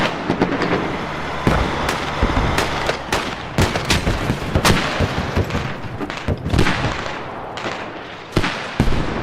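Sustained video game gunfire and heavy explosions from an infantry fighting vehicle in a multiplayer battle, with rapid bursts, loud blasts and crackling shots in a continuous, chaotic barrage.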